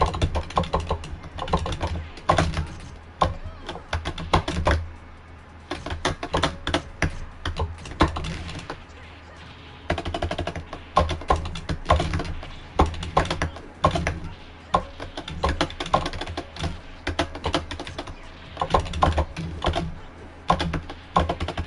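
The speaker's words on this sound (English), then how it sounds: "Are you typing? Is that what's going on?" Rapid, continuous clatter of computer keyboard typing, close and loud, coming in bursts with brief pauses throughout.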